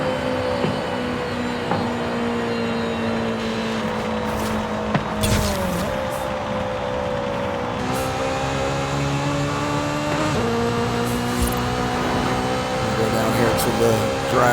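Honda S2000 in the Forza Horizon 5 racing game, engine droning steadily and climbing through several gear changes with smooth shifts, continuous and fairly loud, with a voice talking over it.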